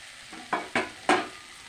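Pieces of yam drop into spice paste frying in a pan, making three short, close bursts of sizzling that fade quickly over a low background hiss.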